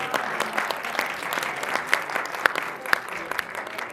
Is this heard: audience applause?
yes